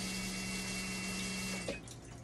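Water leaking from a dialysis machine with a faulty UF valve and low flow error gives a steady, close hiss of running water over a low electrical hum, which drops away abruptly near the end.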